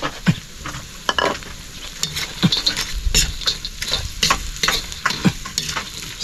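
Carrots and dried anchovies stir-fried in a pan, with loud close sizzling and repeated sharp scrapes and clatters of the spatula in an uneven rhythm.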